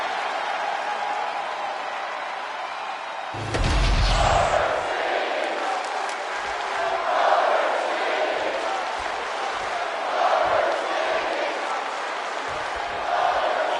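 An arena crowd in the wrestling video game WWE 2K25 roars steadily throughout, swelling after a sharp impact early on, with commentary voices talking over the continuous crowd noise.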